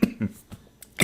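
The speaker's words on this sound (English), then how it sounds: "Excuse me, coughing." A lecturer coughs a few times in short, close bursts during a recorded lecture, with quiet gaps between the sharp coughs.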